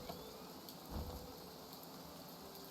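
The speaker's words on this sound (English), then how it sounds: "It's raining." Steady rain pours without break in the survival video game Outbound, with a brief low rumble of thunder, faint and continuous throughout.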